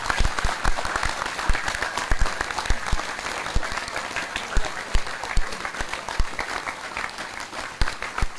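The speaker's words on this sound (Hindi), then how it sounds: "अब ताली बजाना चाहो तो बजा सकते हो।" An indoor audience claps steadily throughout, a dense, even wash of applause with individual sharp hand claps standing out near the listener, sustained without pause.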